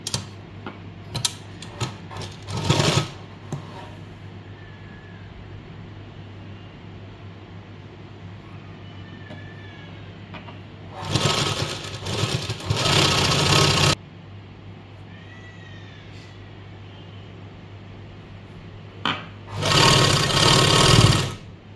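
A sewing machine stitches a hem on a garment in three loud rattling runs, with quieter handling and fabric rustles between them and no talk.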